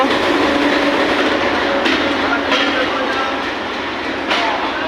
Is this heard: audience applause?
no